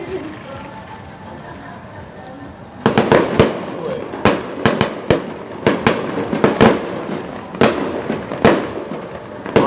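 New Year fireworks bursting over Malabo for 2022, a quiet murmur at first, then a rapid run of sharp loud bangs and crackles coming close together, with voices in the background.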